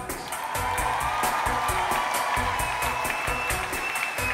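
Concert crowd at the Columbiahalle in Berlin clapping in a steady rhythmic beat with cheers over it, loud and sustained, calling the band back for an encore.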